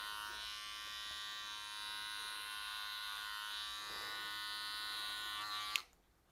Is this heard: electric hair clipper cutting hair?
yes